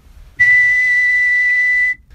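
A single steady, pure whistled tone held for about a second and a half, loud and close, starting and stopping abruptly.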